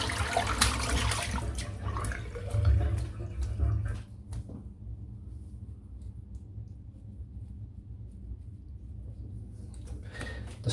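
Warm water runs steadily from a tap to rinse a shaving brush, louder and splashier at first, then settling into a softer continuous flow with a few light knocks.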